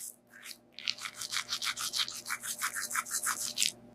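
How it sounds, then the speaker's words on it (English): Toothbrush scrubbing teeth, a rapid series of close, dry brushing strokes in a steady back-and-forth rhythm with no talking. "I brush my teeth."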